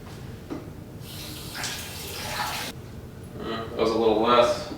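Tap water runs into a measuring teaspoon while making homemade toothpaste, in short bursts of splashing flow separated by pauses, with a person talking between them.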